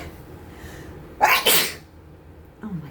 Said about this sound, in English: Sometimes I think my sneezing is like some sort of reaction to nervous energy